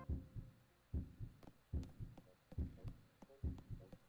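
A video game heartbeat effect thumps in a slow, regular lub-dub rhythm, with about six heavy low beats repeating steadily and nothing else over them.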